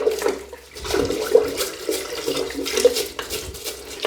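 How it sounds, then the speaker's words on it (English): Water drains through a bathroom floor drain, a close, steady gurgling and splashing trickle with small bubbling pops, continuing for a few seconds without speech. "I'll just drain that through"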